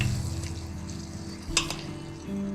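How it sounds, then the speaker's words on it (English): Garlic and onions frying in bacon fat and butter in a pan, a soft steady sizzle with a few scraping stirs of a utensil against the pan, close by and quiet, no talk. "it smells good to fry garlic and onions in bacon and butter"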